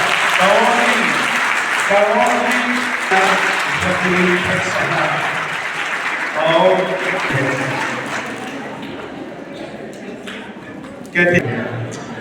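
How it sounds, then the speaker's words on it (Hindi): A ceremony audience claps to welcome a guest at an International Women's Day event, applause running under a loud voice over a PA, fading out near the end. "जोरदार तालियों से स्वागत कीजिएगा"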